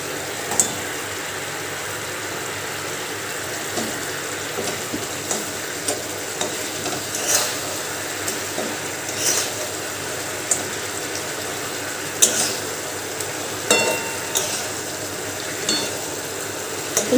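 Fish heads simmering in a boiling sour curry, a steady low bubbling hiss with occasional louder sizzles and stirring clatters, close and continuous with no talking.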